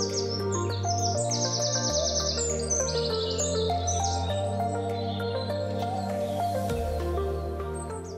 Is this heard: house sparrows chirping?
yes